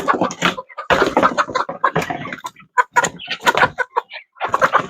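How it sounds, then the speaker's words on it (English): Chickens clucking close by, a busy run of short, choppy calls from several birds overlapping with brief pauses. "we transition this new flock of chickens into our chicken run"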